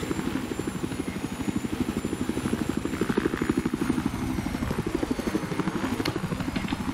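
Helicopter rotor and engine in the video game Battlefield 4, a steady rapid chopping thrum with a continuous buzzing whine, loud and close, running alone throughout.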